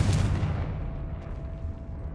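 A Confringo blast spell bursts in Hogwarts Legacy: one loud, deep boom that fades into a rumbling tail.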